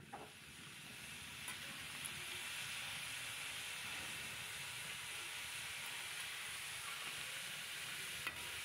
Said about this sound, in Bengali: ঝোল ফুটে উঠেছে, ওপর থেকে মাছ বড়ি সবই একসঙ্গে দিয়ে দিলাম